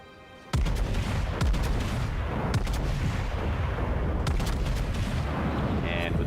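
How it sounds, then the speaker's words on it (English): A full main-battery salvo from a battleship in World of Warships, a sudden loud blast followed by a dense, continuous roar of overlapping booms and rumble that stays powerful to the end. "And with this salvo out there"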